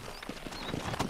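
Horse hooves clip-clopping at a steady galloping rhythm in Red Dead Redemption, with close, evenly spaced thuds over faint background game ambience.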